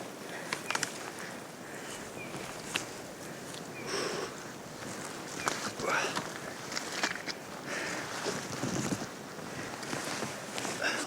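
Strong wind gusting across open country in Patagonian Chile, a steady broadband roar with rising and falling gusts and buffeting on the microphone, no voices.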